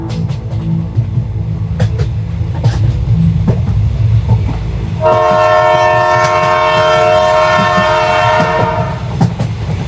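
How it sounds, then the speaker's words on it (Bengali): A train rumbles along steadily, then a loud, sustained horn blares over the running noise for the last several seconds. "ট্রেন ছুটে চলেছে তার নিজস্ব গতিতে"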